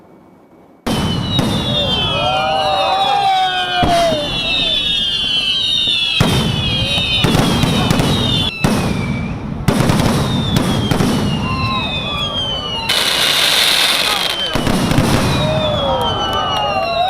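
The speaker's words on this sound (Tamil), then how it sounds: "இரவு 7:30 மணி முதல் 8 மணி வரை தொடர்ந்து அரை மணி நேரத்திற்கு தொடர்ச்சியாக பட்டாசுகள் வெடிக்கப்பட்டன" A large fireworks display in Chennai goes off continuously and loudly for half an hour, with whistling rockets, sharp bangs and crackling bursts overlapping for the whole stretch.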